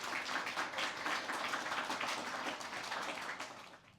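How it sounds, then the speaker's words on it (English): At a writers summit prize showcase, an audience claps for a presenter, a moderate, steady patter of many hands that fades slightly toward the end. "Please give a round of applause for Stephen."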